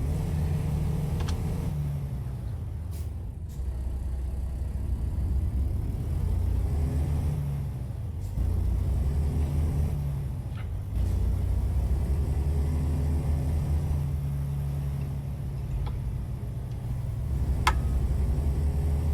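Customized Peterbilt 389 truck in American Truck Simulator drives off under load, a steady low diesel drone and rumble continuing throughout with small shifts in pitch, no talking.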